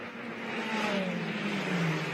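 An autonomous race car on the CES track at about three-quarter throttle, a rising whine that climbs steadily in pitch over a broad rushing roar, heard from a distance.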